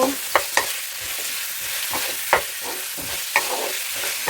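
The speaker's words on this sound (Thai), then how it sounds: "เราใส่เลย ผัดให้เขา" Red shallots and onions stir-fried in a pan without pre-frying, a steady close sizzle punctuated by several sharp scrapes of a spatula.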